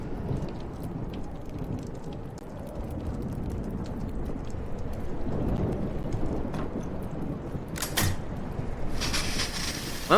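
Thunderstorm in the video game Life Is Strange: steady heavy rain hisses throughout under low rumbling thunder, with a brighter crackle of thunder near the end.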